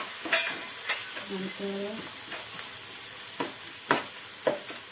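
Spices and salt being stirred into a sizzling pan for spicy prawn rice, with sharp scraping strokes and clinks of the spoon over a steady low fry, close by; a voice briefly says a word.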